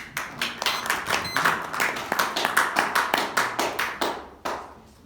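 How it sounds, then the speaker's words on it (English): Steady applause from an audience at a Toastmasters meeting, a dense patter of clapping hands that holds for several seconds before thinning out and fading. "Please welcome Michelle with a round of applause."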